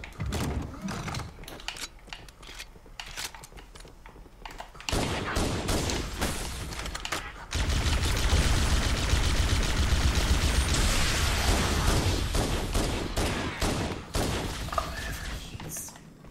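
Automatic gunfire in Halo: Combat Evolved, a dense continuous roar of rapid shots filling the second half after sparser bursts, with players talking over parts of it.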